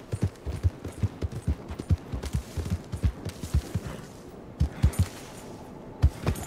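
Horse hooves galloping in the video game Red Dead Redemption 2, a fast irregular clatter of hoofbeats at moderate volume that continues throughout, with brief pauses and no speech over it.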